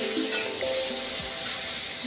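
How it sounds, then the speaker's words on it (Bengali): Chicken pieces frying and being stirred in a pan, a steady close sizzle with a few scraping stirs, no voices. "এই চিকেনের টুকরোগুলোকে আমি প্রথমে একটু ভালো করে ভেজে নেব।"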